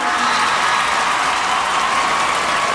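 A crowd at the 2005 MTV Video Music Awards applauds a performer, a dense, steady wash of clapping and cheering that holds loud and even throughout with no talk on top.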